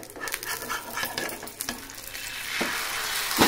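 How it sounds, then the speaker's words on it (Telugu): An omelette frying slowly in a pan over low heat sizzles close by, mixed with some scraping and light stirring, and the sizzle swells into a louder, denser hiss near the end. "నిదానంగా కాలితే ఆమ్లెట్ బాగుంటుంది చక్కగా"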